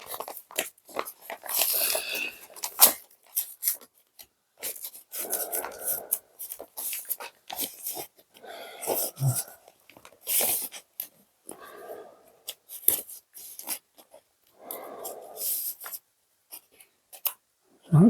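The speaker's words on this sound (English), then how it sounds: "let's open this first. This feels like one of those horrible padded envelopes with all the fluff" A padded envelope lined with fluffy stuffing is handled and torn open up close, giving quiet, irregular bursts of crinkling and rustling with short pauses between.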